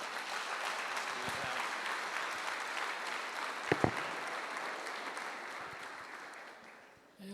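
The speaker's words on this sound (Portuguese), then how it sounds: "Pode bater palmas." A church congregation claps together in steady, dense applause that sounds somewhat distant, with a couple of sharper knocks midway, and the clapping gradually tapers off toward the end.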